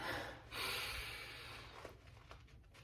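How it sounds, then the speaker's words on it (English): A single deep breath drawn in, audible and close, rising sharply near the start and trailing off as a soft airy rush over low background noise. "And just take a deep breath."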